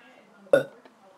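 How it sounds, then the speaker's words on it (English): A single short, close burp from a person sitting in a quiet room, one abrupt guttural pop followed by a faint after-sound. "I burped."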